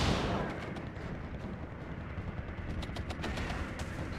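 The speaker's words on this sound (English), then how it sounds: "He did drop the bombs." Bombs exploding in the Endless War strategy game: a dense, continuous barrage of rumbling blasts and crackling detonations, loud and steady throughout with no voices.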